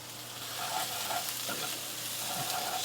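Diced onion, hot pepper and pimento sizzle in hot coconut oil in a pan, a steady close crackling fry with a few stirring clinks and no talking.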